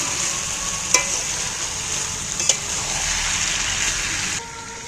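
Chicken meat being stir-fried (kosha) in a pan gives a steady, fairly loud sizzle throughout, with two sharp spatula clicks, then the sizzle suddenly drops lower near the end.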